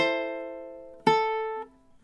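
Ukulele chords ring out for measure 11 of "God Rest Ye Merry Gentlemen", two strums about a second apart, each sustained and decaying, close and alone.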